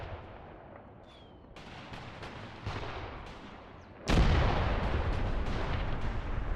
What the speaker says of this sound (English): Just as I want you guys to move, the artillery is arriving.